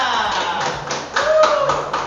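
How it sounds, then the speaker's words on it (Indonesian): Classroom clapping from a fourth-grade science class, with a short burst of claps and taps in the room and voices mixed in, ending after about two seconds. "Tepuk tangan dulu untuk kelompok seadanya."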